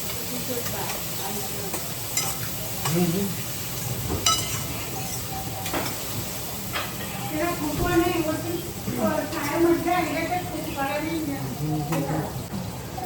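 Soybean vegetable sizzling and frying in a home kitchen pan, a steady low crackle with occasional stirring clinks, while people talk over it throughout.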